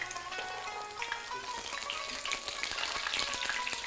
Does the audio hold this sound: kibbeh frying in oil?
yes